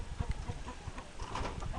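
Chickens in coops, including a hen, give faint clucks and scattered bird calls in short irregular bursts.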